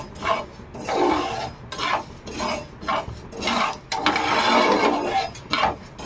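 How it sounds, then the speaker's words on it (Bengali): Fenugreek seeds and black cumin dry-roast on a tawa, with rhythmic scraping and stirring strokes of a utensil against the hot pan, fairly close and clear, almost no talk. "আমি মেথি আর কালো জিরেকে খুব ভালোভাবে একদম পুড়িয়ে কালো করে নেব।"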